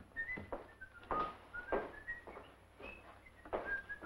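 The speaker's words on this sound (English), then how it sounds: "Stop whistling." A person whistles a wavering tune in short bright phrases over a faint room hum, with light background noises between notes in an old radio-drama setting.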